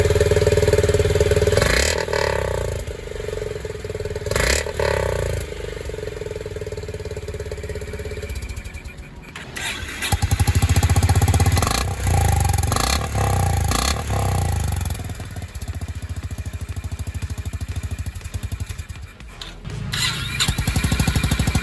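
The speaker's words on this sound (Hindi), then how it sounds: "मैं आपको तीनों का एग्जॉस्ट नोट एक बार सुनवा देता हूँ" Three Honda motorcycles, the CB350RS, H'ness and CB350, start up one after another and idle close by, each exhaust note throbbing with short blips of revving and brief pauses between machines.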